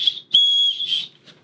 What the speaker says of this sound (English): a little emergency whistle